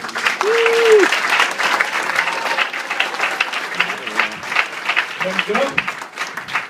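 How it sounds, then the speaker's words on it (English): A comedy-club crowd applauds a comedian finishing his set, a loud, steady clatter of clapping, while a host speaks over it on a microphone near the end. "Another round of applause for Jim, everybody."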